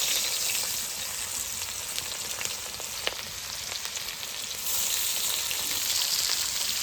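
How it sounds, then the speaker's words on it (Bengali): Onions fry in leftover fish oil in a pot over a village wood fire, giving a steady, dense crackling sizzle that holds loud and close throughout without any voices. "মাছের তেলে এখন পেঁয়াজ ভেজে নেবো"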